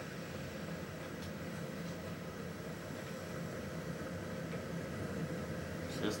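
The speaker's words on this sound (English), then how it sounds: "The steam from the furnace will boil me alive." Steady, loud hiss of steam pouring from a furnace in the Batman: Arkham City video game, a continuous broadband rush with faint higher whistles near the end.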